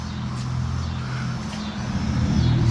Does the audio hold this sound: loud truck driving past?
yes